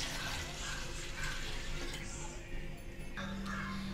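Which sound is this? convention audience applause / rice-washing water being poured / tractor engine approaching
rice-washing water being poured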